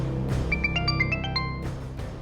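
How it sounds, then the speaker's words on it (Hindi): A telephone ringing, a short run of bright melodic ringtone beeps in the middle, set over a low background of dramatic music. "मम्मी, कैलाश मामा का फोन"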